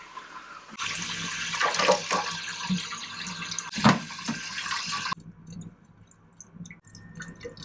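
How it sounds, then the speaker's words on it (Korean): Water from a cup is poured into a toilet bowl that is not refilling properly: a close, splashing pour runs for a few seconds, then stops and leaves quieter gurgles and drips in the bowl. "여기 물 부으니까 차올라요."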